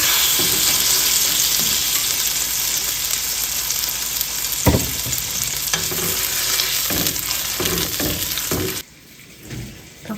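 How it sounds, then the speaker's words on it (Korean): Loud, steady sizzling of chicken breast frying in a pan, with a few scraping stirs, before the sizzle suddenly drops away near the end. "닭가슴살이 구워지는 동안"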